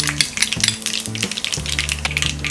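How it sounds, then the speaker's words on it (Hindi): Mustard seeds crackle and splutter in hot oil in a pan, a dense run of sharp pops over a steady sizzle, with a low hum underneath and no talking. "तेल गरम हो गया है। अब हम इसमें डालेंगे ये राई, राई स्प्लटर होने के बाद हम डालेंगे ये हींग,"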